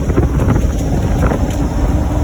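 Heavy wind roar buffets an open-top 1974 Scout SS2 clone cruising country back roads at about 40, a steady loud rush filling the whole stretch with no talk.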